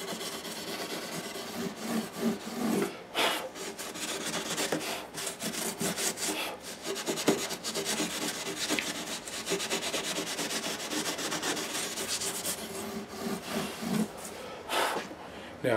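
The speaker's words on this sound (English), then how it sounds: "you can just scrape the residue off of the white binding and it comes up nice and clean" Residue is scraped off the white binding of a Gibson guitar in a steady series of close, dry rubbing and scratching strokes, with brief pauses between passes.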